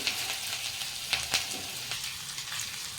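Sesame seeds, curry leaves and green chillies crackle and sizzle in hot oil for a dhokla tempering, a steady close frying hiss with a few sharper pops, no voices.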